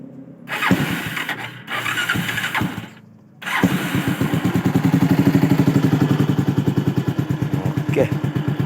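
A motorcycle engine is cranked and catches after a couple of attempts, then settles into a steady, close, rhythmic idle. Faint voices are heard near the start.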